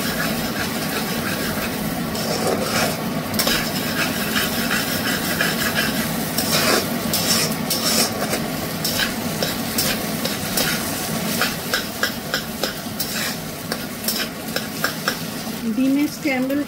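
Eggs scrambled in a pan over high heat, a loud sustained sizzle broken by rhythmic spatula scraping and metallic clinks against the pan, close up and without voices.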